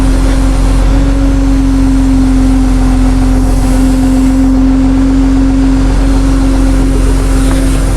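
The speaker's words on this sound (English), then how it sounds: "See if I can turn off this loud PTO." A truck's power take-off unit runs loud and constant, a heavy mechanical drone with a steady whining tone holding unchanged throughout, close by and without talk.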